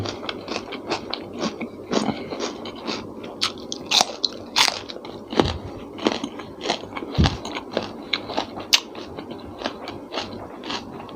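Blanched pork intestine is bitten and chewed up close, giving sharp irregular crunches and wet chewing sounds across the whole stretch, with no talk.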